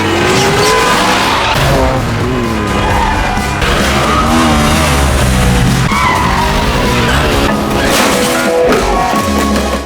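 Tires squeal and skid loudly as a car drifts, engine revving and whining in sweeping rises and falls, with screeching bursts throughout.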